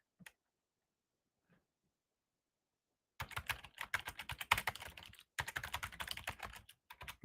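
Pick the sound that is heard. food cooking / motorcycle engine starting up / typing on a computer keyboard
typing on a computer keyboard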